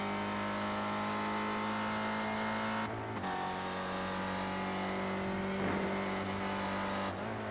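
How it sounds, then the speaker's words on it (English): A simulated race car engine in an SRF racing sim at Miami Homestead drones loudly with steady tonal harmonics, lifting off the throttle and coasting into the braking zone, with pitch dropping after a brief dip. "listen to the throttle heading onto the oval. Does he lift off?"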